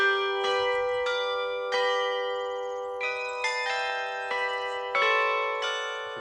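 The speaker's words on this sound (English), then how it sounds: "one of his jewels, a rather special set of Angelus bells intended to impress his foreign visitors" A set of Angelus church bells at a wine chateau rings out a tune, clear separate bell strikes in a slow melodic sequence with long ringing decays, loud and close.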